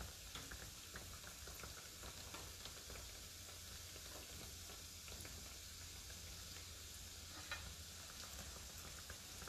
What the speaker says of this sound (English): Okay, it's frying.